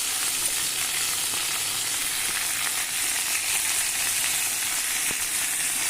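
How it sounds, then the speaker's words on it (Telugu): Onions and coriander fry in oil already tempered with mustard seeds, chana dal and dried red chillies for a capsicum masala curry, making a steady, close, continuous sizzle with no voices. "తర్వాత ఉల్లిపాయలు, కొత్తిమీర వేసుకొని వేపాలి."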